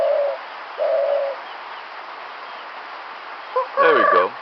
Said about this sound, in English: The bowing cuckoo birds.